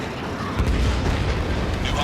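Heavy booming blasts of missiles detonating in the Ace Combat 7 flight game, a dense rumbling low-end explosion swelling midway, layered under game radio chatter.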